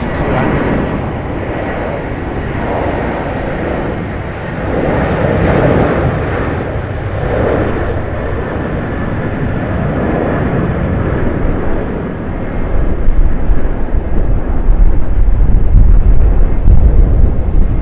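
A Qantas Airbus A330-200 at Sydney Airport gives a broad, rumbling roar mixed with wind buffeting on the microphone, holding steady before swelling louder over the last few seconds.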